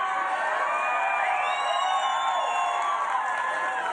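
A large rally crowd cheers for Donald Trump in Las Vegas, Nevada, before a debate, a loud, unbroken roar of voices with shrill whistles and whoops riding on top.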